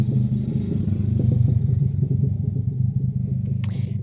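Motor traffic, mostly motorcycles, rumbling past on a road, a steady low engine drone throughout with a brief higher rattle near the end; no talk.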